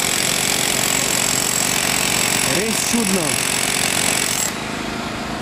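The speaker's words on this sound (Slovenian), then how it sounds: "gospod je ravnokar začel ponovno vrtati na novo obnovljene tlakovce" A worker drills into freshly renovated pavement stones, a loud continuous jackhammer-like clatter running almost the whole time before it drops off near the end, with a brief spoken remark over it.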